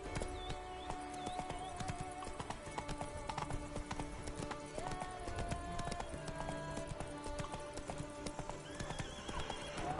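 Geralt's horse Roach in The Witcher 3: Wild Hunt Blood and Wine, galloping with quick steady hoofbeats close by over ambient music, plus a brief whinny.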